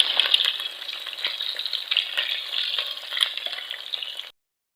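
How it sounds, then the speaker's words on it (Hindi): Koftas sizzle gently in oil over low heat, a steady crackling fry with small bursts and pops that runs evenly for about four seconds before cutting to silence. "कोफ्ते जो हमने अच्छे से फ्राई कर लिए"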